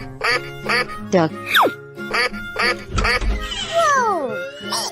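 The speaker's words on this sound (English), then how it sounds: "Hello. Duck." Cartoon-style duck quacks in a children's animal transformation piece, a few bright nasal calls mixed with chirpy toy-like sounds, a childlike voice and a brief thud, all close and fairly loud.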